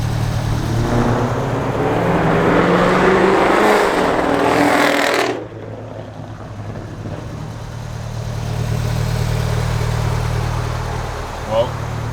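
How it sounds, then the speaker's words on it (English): A Toyota MR2 fitted with new BC coilovers runs its engine with a loud, steady drone that cuts off abruptly partway through, leaving a low hum and some quieter movement noise; voices are heard speaking alongside. "Well, coilovers are on, car drives."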